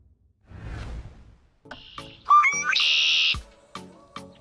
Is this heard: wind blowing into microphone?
no